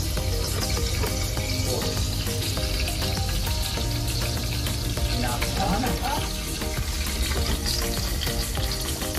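Cooking oil heats in a pan at the start of making chicken adobo, giving a loud, continuous close sizzle and crackle with dense popping throughout, no speech over it.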